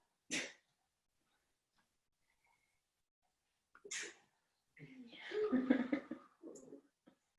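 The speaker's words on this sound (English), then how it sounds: "How do I keep sneezing?" Two sharp sneezes separated by silence, followed by a short burst of quiet talking.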